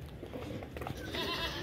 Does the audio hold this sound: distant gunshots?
no